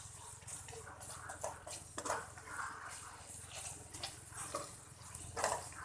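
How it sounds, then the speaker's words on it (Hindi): Stuffed okra spices being stirred in a pan, with soft scraping and light clinks of a utensil repeating steadily and close by against a low background hum, no talk. "इसकी अच्छी से व्यूअर्स हम मिक्सिंग कर लेंगे"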